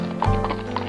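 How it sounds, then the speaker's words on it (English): Horse hooves clip-clop briefly during a ride, a close, short sequence of hoof strikes. "we're going to be riding on horses this entire time"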